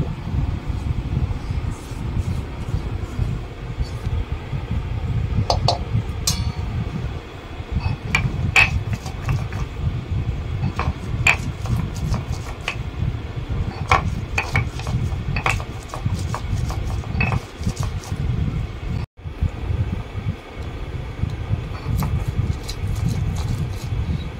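Ginger, fried onion, garlic and green chili being ground into a paste by hand, a steady rough scraping and knocking rhythm that runs continuously and close, with sharp clicks of the grinding stone scattered throughout.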